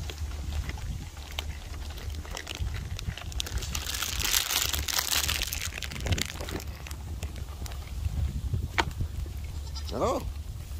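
Goats bleat near a water trough after being offered flaming hot chips, with a few short wavering cries standing out toward the end over steady crinkling and rustling, while people talk.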